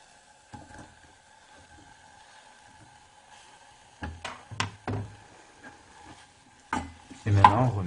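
Sliced onions in melted butter being stirred in a pot, quiet sizzling broken by several knocking scrapes of a spoon against the pan, with a voice briefly heard.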